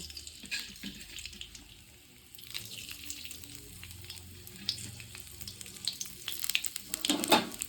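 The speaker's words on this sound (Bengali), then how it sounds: "শুকনো লঙ্কাটা একটু ভালো করে ভাজা হয়ে যাক।" Dry red chillies and five-spice seeds crackle and sizzle in mustard oil at low volume, with faint popping and occasional clinks of utensils, growing slightly livelier toward the end.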